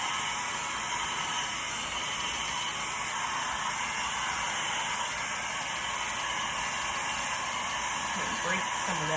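Hair dryer blowing steadily on poured acrylic paint in a rainbow-effect acrylic pour, a close, continuous airy roar with hiss that holds level throughout.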